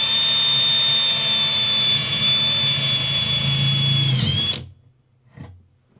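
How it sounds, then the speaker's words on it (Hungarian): A power drill fitted with a thin 3 mm bit whines at a high, steady pitch for several seconds while working inside a hole in a homemade fermentation cabinet, then spins down and stops, followed by a brief soft knock. "Most ezzel az ilyen kis vékony 3 mm-es fúróval itt így körbe tapogatózom a lyuk belsejében"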